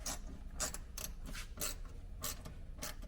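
A ratchet tightens hardware on a Jeep JL during a locker install, giving about six bursts of quick clicking in an uneven rhythm, close and fairly quiet.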